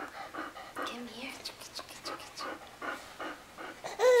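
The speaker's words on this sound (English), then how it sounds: "Feel that fuzzy dog?" A fuzzy pet dog pants in quick rhythmic bursts close by, the soft breathy puffs repeating steadily through the moment with a brief louder sound near the end.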